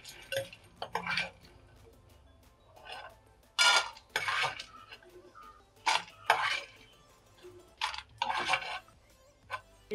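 Fried sundakkai being scooped from a clay pot onto a plate, with several separate bursts of spoon scraping and clinking against the pot, close and loud, with quiet gaps between them.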